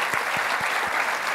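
Audience applause at a Codemania 2015 tech conference talk, a steady wash of many hands clapping for volunteers called up on stage, loud and continuous with a few sharper claps standing out.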